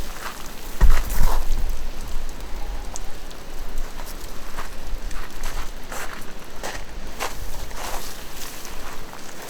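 Water poured from above onto the soil of a potted bonsai, pattering and splashing steadily like light rain for about ten seconds, with a slightly heavier splash near the start.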